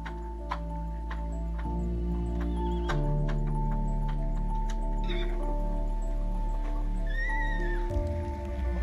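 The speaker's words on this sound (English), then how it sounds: "A foal panics and jumps over the barrier to her mother, gets caught and kicks." Icelandic mares and a panicked foal neigh and whinny amid hoof thuds and kicks against a barrier, with a low continuous engine hum underneath.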